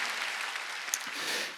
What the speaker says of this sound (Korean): 믿으면 박수 치래